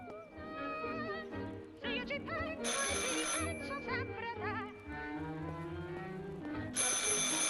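Telephone ringing in the video game Martha Is Dead, a repeated electronic ring pattern that carries over a loud musical score and continues steadily throughout.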